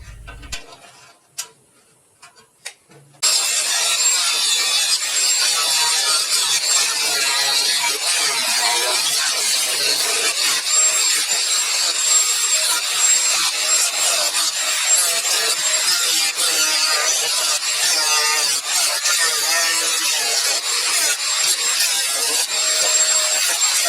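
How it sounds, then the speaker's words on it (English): Metal is cut on the inside of an old John Deere lawn mower deck: a steady, loud, close rasping grind runs unbroken after a few quiet seconds of light clicks, with no talking. "I'm just going to finish up cutting on the inside of the deck"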